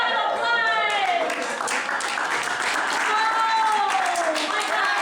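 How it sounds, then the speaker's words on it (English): An audience bursts into sustained applause with scattered cheers and whoops, loud and continuous through the whole stretch, with a voice calling out over it. "Please give him a round of applause."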